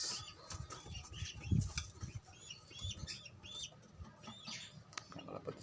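Homing pigeons flap their wings in a few short bursts at close range, a soft, irregular fluttering mixed with faint chirps and rustling in the background.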